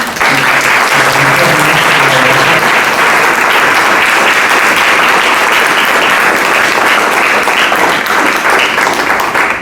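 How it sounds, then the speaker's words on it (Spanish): Loud, sustained audience applause fills the room at a Spanish-language presentation as colleagues are sent off, with thick, even clapping that continues for nearly ten seconds and faint voices beneath it early on. "quería despedir a mis colegas con un aplauso"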